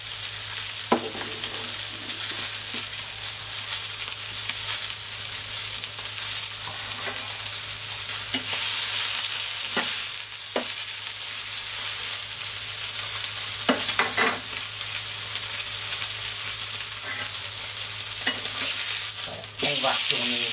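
Meat sears in a hot pan with a loud, constant sizzle and crackle that runs for about twenty seconds, broken now and then by brief scrapes and knocks of a utensil, and no one speaks.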